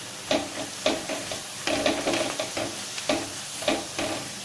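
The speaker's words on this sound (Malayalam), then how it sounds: "ഇനി ഞാൻ ഇതിലേക്ക് ഒരു തണ്ട് കറിവേപ്പില ഇട്ട് കൊടുക്കുകയാണ്" Curry leaves dropped into hot oil with onion and ginger-garlic paste for soya chunk dry roast, crackling and sizzling steadily while a spoon stirs the pan in repeated scraping strokes.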